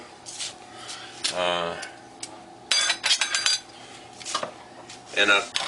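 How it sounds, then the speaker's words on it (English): A lid is cranked down onto a packed glass jar of fermenting sauerkraut: several metallic scrapes and clinks, close and fairly loud, in short bursts separated by pauses. "crank the lid down"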